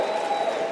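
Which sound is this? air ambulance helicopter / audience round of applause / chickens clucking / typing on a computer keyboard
audience round of applause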